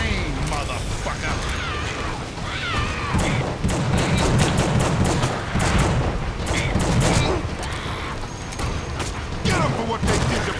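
Gunfire in The Suffering, a horror shooter, crackles in dense rapid bursts of sharp shots over a rumbling, busy game soundscape.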